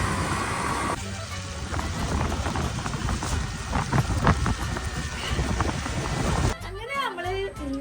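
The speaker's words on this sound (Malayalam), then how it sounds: "നല്ല മഴ തന്നെ വരുമ്പോൾ" Heavy rain pours down in a dense, constant roar of drops on surfaces, then thins out near the end as someone starts talking.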